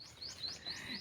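A bird chirps outdoors over a rice field, four quick, bright, rising chirps in even succession, fairly close and alone.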